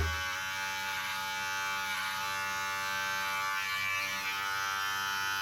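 An electric clipper trims a short beard along the neck and jawline, giving a steady close buzzing drone that holds even throughout with no talking.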